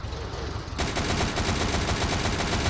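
Rapid automatic gunfire in the zombie shooter Unkilled, fired from a jeep at explosive barrels, starts abruptly and rattles on loud and continuous.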